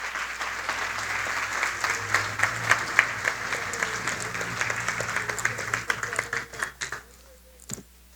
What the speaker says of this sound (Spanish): Demos un fuerte aplauso en este momento